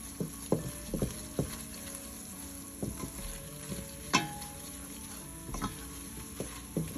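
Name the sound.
stirring ingredients into cheesy potato soup in a pot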